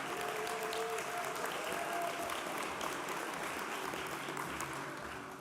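Applause for local high school students at an electric cooperative's annual meeting in Fairbanks, Alaska: a dense, steady round of clapping from a large indoor crowd that fades slightly at the end.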